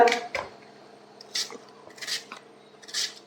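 A knife finely chops taro stems on a board in a home kitchen, landing crisp, evenly spaced strikes about once every three-quarters of a second at close range, without speech.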